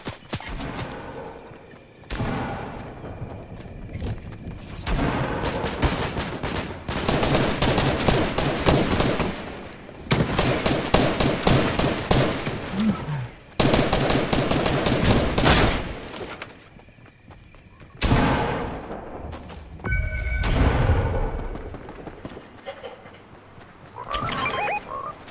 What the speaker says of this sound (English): Where are they shooting? I'm being shot at.